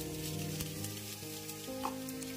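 Asafoetida goes into a hot mustard and cumin seed tempering for soyabean rice and sizzles steadily up close, with faint scattered crackles and a few soft stirring clinks over the continuous hiss.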